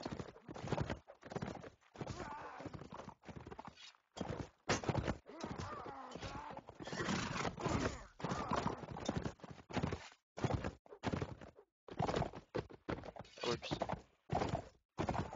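Quick, rhythmic hoof clip-clops from a game, coming in short bursts separated by brief silences, fairly close and crisp.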